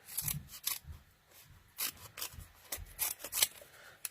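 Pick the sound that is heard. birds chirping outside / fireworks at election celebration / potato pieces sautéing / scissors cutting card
scissors cutting card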